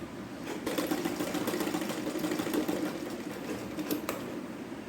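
A sewing machine stitches the fabric of a child's umbrella-style frock top, running as a steady, continuous mechanical whir with a dense, even rhythm throughout, close up and with no talking.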